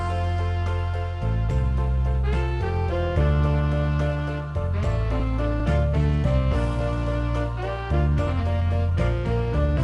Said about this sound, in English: let's just take a rhythm like 50s love songs